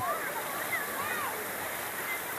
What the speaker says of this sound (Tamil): இங்கே தண்ணியெல்லாம் வர ஆரம்பிச்சிருச்சு